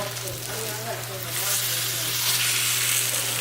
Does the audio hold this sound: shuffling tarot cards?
no